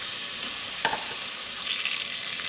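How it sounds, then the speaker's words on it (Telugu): Onions fry in a spoonful or two of oil in a pan for chicken curry, giving a soft, steady hiss with one brief scrape of stirring near the start, heard alone. "ఉల్లిగడ్డలు వేసేసుకుంటున్నాను. 1 స్పూన్ ఆయిల్ వేసుకున్నాం, 2 స్పూన్లు ఆయిల్ వేసుకుంటున్నాం. బాగా వేగనిద్దాం."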